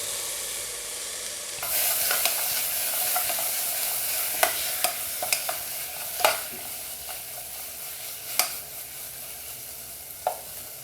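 Two small, ripe, finely chopped tomatoes are sautéed with spices and salt for a hotel-style egg curry. A steady sizzle runs throughout, broken by sharp, scattered spatula clacks against the pan.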